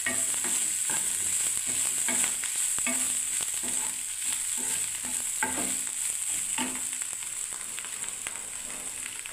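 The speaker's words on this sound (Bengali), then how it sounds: "ফুলকপিটা ভালোভাবে ভাজছে, আর যে টুকরো টুকরো করে ছোট্ট ছোট্ট আলু ভালো করে না ভাজলে" Cauliflower and small potato pieces sizzle in hot oil under a constant hiss, while a spoon stirs and scrapes the pan in repeated irregular strokes.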